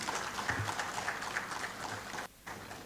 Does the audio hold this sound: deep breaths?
no